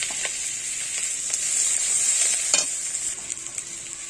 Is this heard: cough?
no